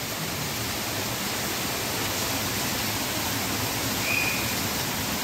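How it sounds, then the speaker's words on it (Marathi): Heavy rain pours continuously outdoors in a downpour, a dense, loud, even hiss with no pauses and no voices. "हे बघा पाऊस तर कंटिन्यू सतत चालूच आहे"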